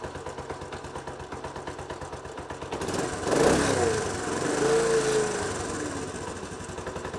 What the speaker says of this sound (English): so the bike is running